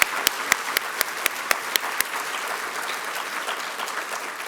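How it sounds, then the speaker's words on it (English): An audience at a university diversity forum keynote applauds, a dense even patter of many hands with a few sharp, close claps standing out early on, continuing alone without talk. "So let's give her a round of applause as well"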